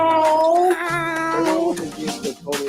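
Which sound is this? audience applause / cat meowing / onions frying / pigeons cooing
cat meowing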